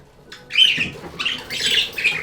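Pet budgies and a cockatiel chirp and squawk in morning song, with several bursts of bright, chattering calls close by and no talking.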